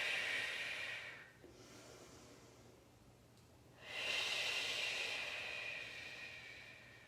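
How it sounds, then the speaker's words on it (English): Slow, deep breaths during a foam rolling exercise, a long airy exhale, a pause, then another long breath, close and fairly quiet with no talking. "Take a couple good breaths here."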